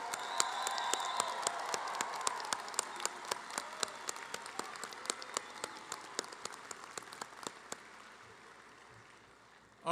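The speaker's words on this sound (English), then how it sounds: "give them the big, loudest round of applause you can give them" Graduates at a university commencement applaud their families and friends, a loud burst of many hands that thins into scattered individual claps and fades toward the end in a large hall.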